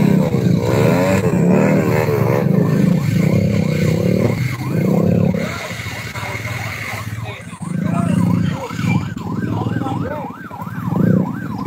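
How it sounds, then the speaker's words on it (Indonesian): A motorcycle engine passes near a Mount Semeru eruption zone, its warbling drone rising and falling over several seconds amid loud traffic and siren-like wails, with people talking nearby. "Ini motor Bang Iwan pun."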